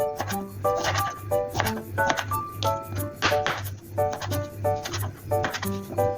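Knife chopping tomatoes on a board with quick, steady repeated taps at close range, alongside a looping musical backdrop.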